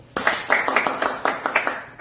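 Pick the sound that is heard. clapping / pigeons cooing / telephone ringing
clapping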